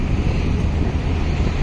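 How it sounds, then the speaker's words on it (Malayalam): Strong wind roars beneath a highway flyover, buffeting the microphone with loud, continuous rumbling for the whole short stretch. "ഫ്ലൈ ഓവറിൻ്റെ അടിയിൽ ഏകദേശം നല്ല കാറ്റുണ്ട് കേട്ടോ."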